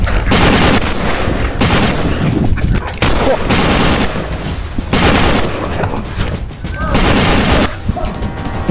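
Dense, continuous bursts of loud gunfire fill the whole stretch, overlapping with shouting and other battle noise, nearby and relentless.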